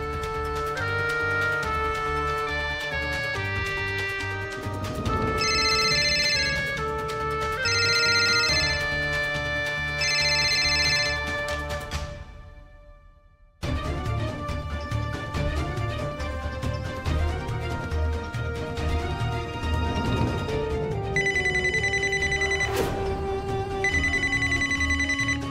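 A telephone rings on and on with no one answering, its repeated bursts of ringing set over a steady musical background from a Marathi television serial, cutting out briefly midway before the ringing resumes.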